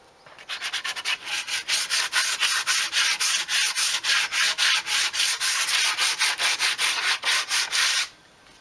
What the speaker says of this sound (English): I'm just sanding over the whole thing with a 80 grit, just to actually remove any loose bits